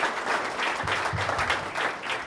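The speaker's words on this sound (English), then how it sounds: "how about another round of applause for our award winners again?" Applause from a Redbank Chamber dinner audience for award winners, a moderate, steady patter of many hands clapping for a couple of seconds, with a few louder bursts near the middle.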